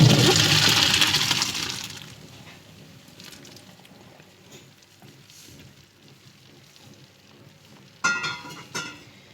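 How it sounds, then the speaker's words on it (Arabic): Boiled okra water poured off through a strainer in a home kitchen, a loud splashing gush for about two seconds that fades to quiet dripping, then a brief clatter near the end. "انا هطفي عليها النار واخدها اصفيها"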